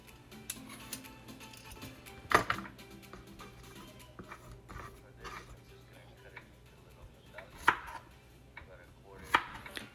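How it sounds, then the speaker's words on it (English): A knife chops peeled zucchini into quarter-inch medallions on a board, a steady run of sharp close taps with a few louder strikes standing out. "For this, I'm just gonna cut it into little medallions, about a 1/4-inch thickness."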